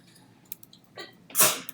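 A single sharp sneeze bursts out in a lecture room, loud and close, following a couple of faint small sounds and a brief breathy intake.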